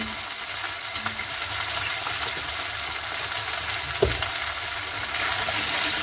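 Potato and green pea masala with bay leaf, dried red chilli, salt and turmeric sautéing in oil: a steady broadband sizzle with faint stirring and one sharp utensil clink midway, close and continuous.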